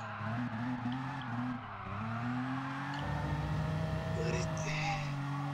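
A BMW M4 drifting, heard from outside the car: a loud, sustained engine drone rises and falls in pitch, with tire noise and a steady roar throughout. Faint voices sit underneath.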